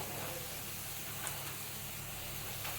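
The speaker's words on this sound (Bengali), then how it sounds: "এবার ভালো করে মশলাটা কষে নেব" Ground spices such as cumin and coriander frying in oil in a pan while being cooked down for potol dorma, giving a steady, soft hiss and sizzle that runs continuously at low volume throughout.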